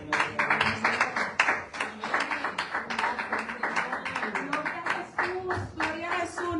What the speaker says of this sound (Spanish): un aplauso más fuerte para el Señor